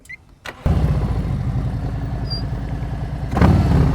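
A motorcycle engine idles and revs at low speed during a slow full-lock U-turn with the rider easing on the rear brake, a steady close rumble with a small rise near the end.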